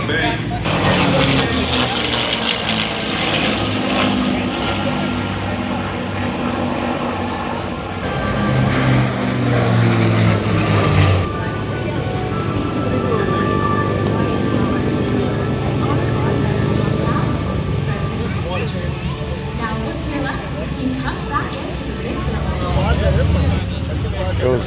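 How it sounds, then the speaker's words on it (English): Douglas B-25 bomber departing, a loud sustained propeller-engine roar that swells and shifts in pitch as it passes, with a person talking over it. "Goes the B-25"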